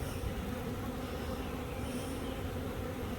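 Honey bees in a hive with freshly drawn wax comb make a dense, steady buzzing hum that fills the whole short stretch at close range, with no speech.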